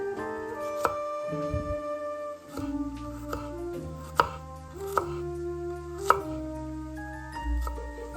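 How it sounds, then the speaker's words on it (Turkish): A medium onion being finely chopped with a knife: a few sharp, spaced chops that stand out over steady background music. "orta boy soğanı ince ince doğruyorum"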